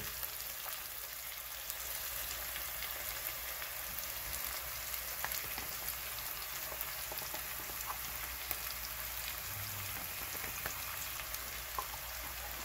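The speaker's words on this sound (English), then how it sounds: "I like my onions cooked, so that's why I'm cooking it" Onions and vegetables frying softly in a pan for a St Vincent corned beef dish, a steady faint crackle and sizzle with scattered small pops throughout, no talking.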